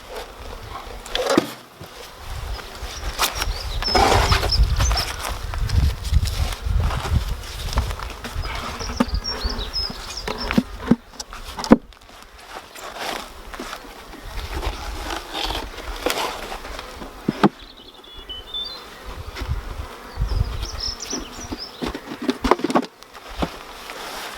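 Honeybees buzzing steadily outdoors while a nuc of bees is moved into a beehive, a dense close hum that swells and fades with a few soft knocks and handling sounds, no talk.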